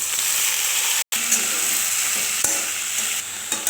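Chopped onion fries with dried lotia fish in a pan, a bright steady sizzle with busy stirring scrapes, briefly cut by a short dropout, and no talk.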